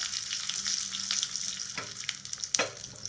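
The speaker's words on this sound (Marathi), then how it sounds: "हे कढीपत्ता टाकू त्यानंतर ही आपली एक चमचा मोहरी टाकू हे छान आहे ना आता याला परतून घेऊ आपण" Curry leaves and a spoonful of mustard seeds sizzle in hot oil as a tempering for fresh coconut chutney, a steady close hiss broken by a few sharp pops and crackles.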